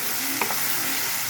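Small potato pieces frying in a pan give off a steady, close sizzle with a brief stirring clink, and no one speaks.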